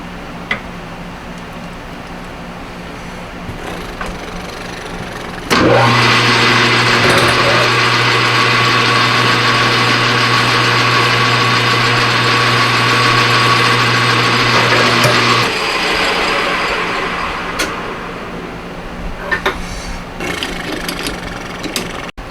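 A loud, steady machining whine with a low hum from a lathe cutting metal runs for about ten seconds, starting and stopping abruptly, between quieter workshop noise.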